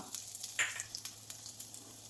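Cumin seeds and finely chopped ginger crackling in hot oil for aval uppuma: a soft, steady sizzle with scattered sharp pops and spits, close by and fairly quiet, with no voices.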